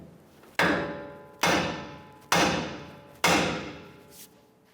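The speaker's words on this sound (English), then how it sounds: "we're going to use our hammer and we're going to strike this part of our knuckle" A hammer strikes the steering knuckle of a 2011–2018 Ram 1500 to pop loose the ball joint, with a nut left on as a catch. Four sharp, evenly spaced metallic blows each ring out and fade before the next.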